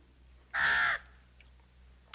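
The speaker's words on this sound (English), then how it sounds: "Don't play with the bird, boy." A pet crow or similar bird lets out a single loud, harsh caw close by in a quiet indoor scene, with faint noises after it.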